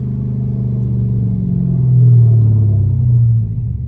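A low, steady engine rumble from an SRT car sliding through a muddy neighborhood street, swelling slightly midway then easing off near the end, with no voices.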